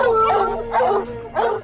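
Dogs barking at a trapped mountain lion outdoors, three loud, close barks with slight howling tails, evenly spaced over a low background hum.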